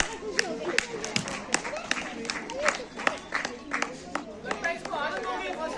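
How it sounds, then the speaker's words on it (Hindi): At a school annual day and results ceremony, an audience claps for young children. Sharp, scattered claps rise and fall alongside loud crowd chatter and voices talking throughout. "तो इन नन्हे मुन्ने बच्चों के लिए जोरदार से तालियां।"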